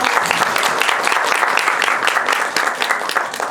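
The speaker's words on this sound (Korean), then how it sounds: "여러분 큰 박수 한번 부탁드릴게요." An audience at a film festival Q&A screening applauds loudly and steadily, with dense clapping throughout.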